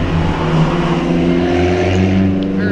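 An Alfa Romeo passing on the Vancouver Island Motorsport Circuit during a trackday, its engine a loud, close, steady drone with a rising whine near the end.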